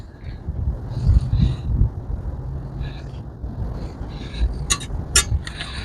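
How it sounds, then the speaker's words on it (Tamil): Strong cold wind blowing outdoors during a Thai Pongal celebration in the United States, gusting in uneven rumbling swells against the microphone with faint voices in the background. "நெருப்பு ஆடுறத பார்த்தாலே தெரியுமா அப்படி காத்து அடிக்குது."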